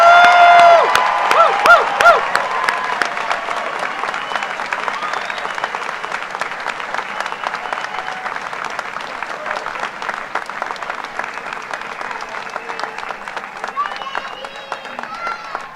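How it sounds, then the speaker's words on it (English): Audience at a Brazosport College commencement ceremony giving graduates a long, loud round of applause with cheers and whoops, strong at first and slowly thinning out. "one last round of applause from the audience gathered in honor of your commencement"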